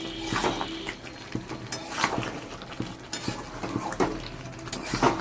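Mutton and potatoes being stir-fried in a pan for a holiday meal, with repeated scraping and clinking of a spatula against metal over a low background sizzle, close and moderately loud.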